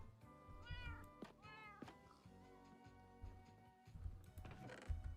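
A Minecraft cat meows a few times, with short rising cries over quiet background game noise and no talking.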